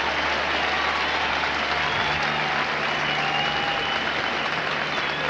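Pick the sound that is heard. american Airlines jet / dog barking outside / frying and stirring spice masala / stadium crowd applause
stadium crowd applause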